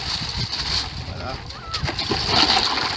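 Ice and lake water slosh and splash together in a bucket being stirred, with a continuous close, wet churning and scattered splatters across the whole stretch.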